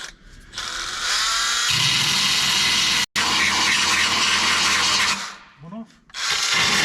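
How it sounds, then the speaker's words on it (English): An angle grinder cuts through rivets on a Land Rover Defender 90 side panel, a loud sustained harsh grinding that runs several seconds, breaks off briefly, resumes, dips as the disc eases off, then bites again. "So what I'm going to do is I'm going to grind it off."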